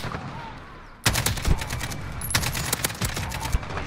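Rapid bursts of AK-47 rifle fire in a battle royale video game, starting abruptly after a quiet second and continuing in dense, loud volleys with sharp individual cracks, faint talk underneath.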